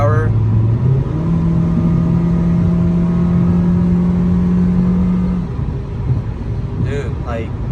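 Honda CR-V with a B20B engine driving and accelerating, a steady loud engine drone that holds a rising tone for several seconds before easing off, with a brief chirp near the end.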